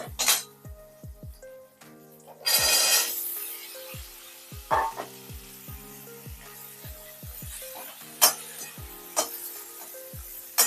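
Sundal being sautéed in a pan for a South Indian lunch, giving repeated sharp metallic clinks and scrapes of a spoon against the pan, with a light sizzle between the strokes and no talk.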